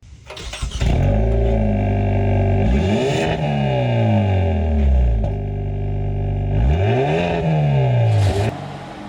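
A 2024 Hyundai Elantra N engine revs up and down repeatedly through a large, throaty exhaust, rising and falling in pitch several times, loud and close.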